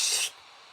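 A voice imitates the hiss of a spray can, a single brief loud sharp hiss that cuts off abruptly, followed by quiet.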